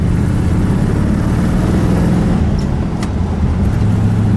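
A 1955 Ford Fairlane Crown Victoria cruises along with a steady, low engine drone and road rumble heard from inside, loud and even throughout, no voices.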